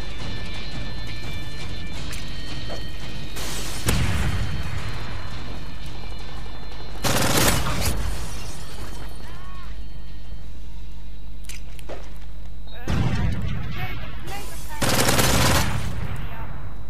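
Repeated loud bursts of gunfire crack out in several clusters during a Search and Destroy match in Call of Duty Modern Warfare 3, over a constant droning game background.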